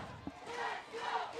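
Crowd chanting from Michigan fans at a night-time college women's soccer match against Michigan State, a broad, sustained roar of voices rising and falling at a distance with no clear individual words.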